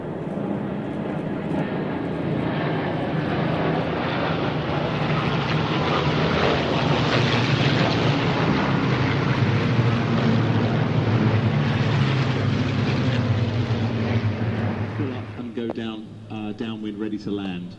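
A light fixed-wing aircraft flies with a steady, loud propeller engine drone that holds for many seconds before fading, while radio-style voices talk over it.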